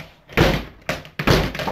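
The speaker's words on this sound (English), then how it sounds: "This door does not want to close." A door that will not close is pushed repeatedly: three loud, close bangs and thumps, each followed by a short rattling rebound, with brief quiet gaps between the attempts.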